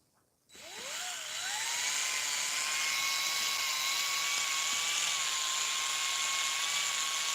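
A dying cordless drill starts abruptly and spins up into a steady high whine, running alone without pause, its pitch rising briefly before settling, as if the battery is weak.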